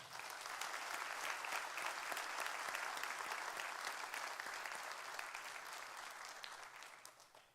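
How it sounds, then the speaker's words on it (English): An audience applauds at a sheriff's office awards ceremony, broad sustained clapping that stays full for several seconds before tapering off near the end. "One more round of applause, please"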